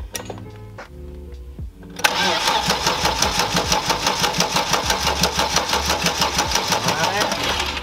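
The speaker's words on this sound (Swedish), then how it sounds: "Men jag vrider på starten och ser vad som händer." A moped engine cranks on its electric starter without catching, a fast, even chugging rhythm that runs close and loud for several seconds after a short stretch of quieter mechanical noise.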